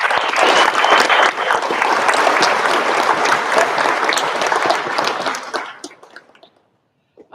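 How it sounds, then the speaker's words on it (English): A crowd at a school sports awards night applauds a coach with sustained, loud clapping that carries on evenly, then fades out and leaves near-silence. "just a round of applause and thanks to Svante"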